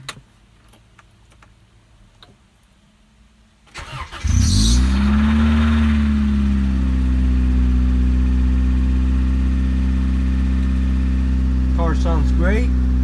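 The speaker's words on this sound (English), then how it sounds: "So let's turn on this bad boy and you see how this sounds like." A 1994 Acura Integra LS engine is cranked and starts after some quiet clicking and ticking, then settles into a loud, steady running hum close by, with a brief chirp near the end.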